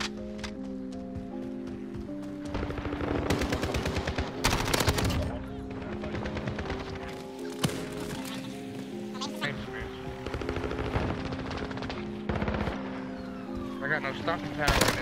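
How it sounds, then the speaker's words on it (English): Rapid bursts of MP5 submachine gun fire in a multiplayer shooter video game, loud and repeated across the span with reloading clicks, under frequent team chatter. "I got no stopping power in this MP5."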